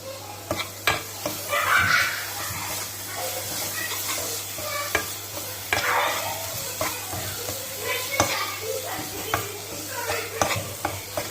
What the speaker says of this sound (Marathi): ये देखिए ये अच्छे से मसाला जो है ऑयल में रोस्ट हो गया है